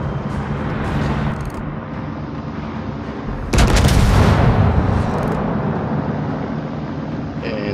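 In World of Warships, the battleship New Mexico fires its main guns, a sudden loud, booming salvo midway through that rumbles and decays over a couple of seconds, over a steady background of engine hum and game ambience.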